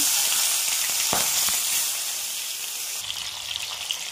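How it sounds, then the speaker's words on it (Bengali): Jeol fish fry in hot oil with a loud, dense sizzle that holds steady and eases slightly toward the end, with a couple of faint knocks in the pan. "প্রথমে মাছগুলো সবগুলো ভালোভাবে ভেজে নেব"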